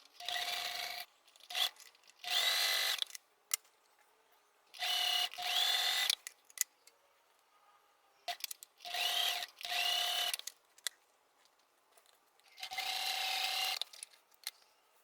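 Sewing machine stitching patchwork strips for a mosaic block, running in four or five bursts of a few seconds each with a steady whirring motor hum, separated by brief quiet pauses and small clicks, close by.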